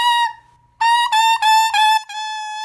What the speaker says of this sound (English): just the mouthpiece is going to make a sound kind of like this when I blow